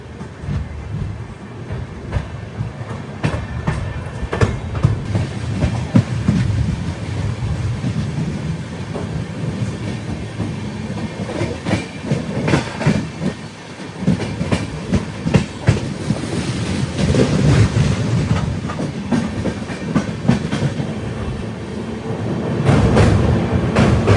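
A passenger train crosses the Mahanadi river bridge near the Hirakud dam water, giving a loud, continuous rumble with rhythmic clickety-clack of the wheels throughout.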